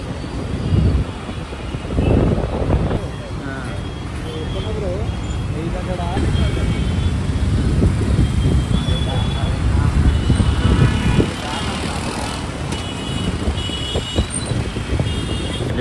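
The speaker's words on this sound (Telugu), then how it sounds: "ఇక్కడేమో ఫుల్ ట్రాఫిక్ ఉంది" Dense road traffic outside a mall, with a constant rumble of engines, passing vehicles and a reversing beep, loud and close, under ongoing conversation.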